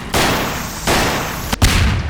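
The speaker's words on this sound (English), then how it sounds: "just shoot at the tires, man" Video game gunshots aimed at a car's tires come as three loud, close blasts, each with a long, broad rumbling tail, the last one sharper and followed by a thump.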